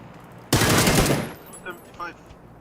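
A loud, near burst of automatic gunfire in the battle royale game PUBG on the Sanhok map, a rapid rattle lasting under a second, then fainter shots and brief talk.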